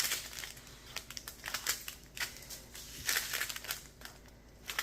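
Plastic-wrapped pieces of a Diamond Art Club diamond painting kit are cut apart, giving a steady run of close crinkling and crunching plastic sounds with sharp snips, alone without talk.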